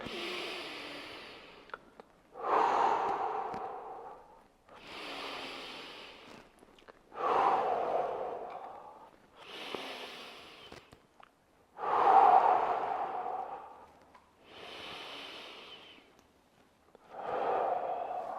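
Slow, deep breaths during a resistance band shoulder and neck stretch, with about seven audible inhale-exhale cycles spaced a couple of seconds apart, close and moderately loud with quiet gaps between.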